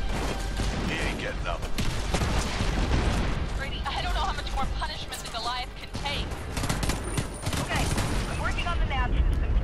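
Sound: gunfire in the video game Homefront: The Revolution

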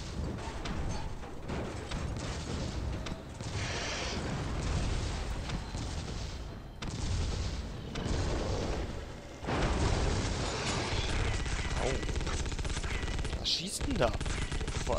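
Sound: gunfire in a video game

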